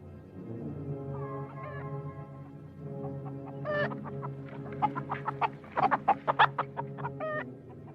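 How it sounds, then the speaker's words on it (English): A chicken clucks and squawks in a 1984 martial arts film, starting with low murmuring clucks and building into a run of loud, rapid, rhythmic cackles near the end. "A chicken pops up from the corner"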